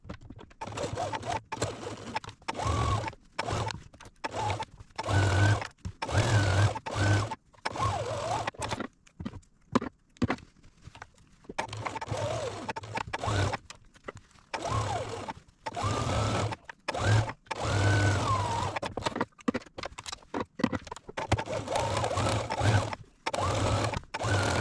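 Home sewing machine stitching pinned shirt seams, a rapid mechanical whirring that starts and stops in short bursts separated by brief pauses, moderately quiet and close.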